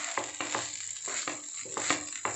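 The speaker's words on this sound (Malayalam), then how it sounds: "ഹൈ ഫ്ലെയിമിൽ ഒന്നെല്ലാം കൂടി മിക്സ് ചെയ്യാം." Beef fried rice tossed and stirred in a pan over high flame, with a steady sizzle broken by repeated scraping strokes roughly every half second.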